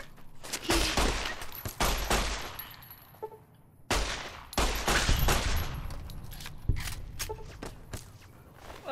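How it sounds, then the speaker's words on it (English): Gunfire from Fallout New Vegas, played on Hardcore mode, strikes at the player in repeated bursts of sharp shots and rattling volleys, loud and close, broken by a brief lull before heavier shooting resumes. "I'm getting shot!"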